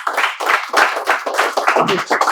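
A group in a spoken English class claps in loose rhythm, a close, lively burst of hand claps lasting a couple of seconds.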